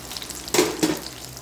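Dried red chillies and tamarind sauté in hot oil for a spicy chutney, giving a soft background sizzle broken by two quick stirring scrapes close by.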